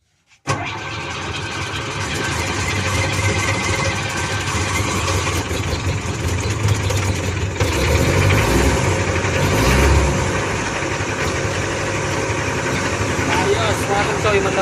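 An engine cranks and catches after troubleshooting, then settles into a loud, steady running rumble that continues throughout, with voices heard over it.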